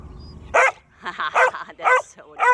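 A young puppy with an injured leg gives a quick run of high, sharp yips and small barks, close and fairly loud, in short bursts with brief pauses.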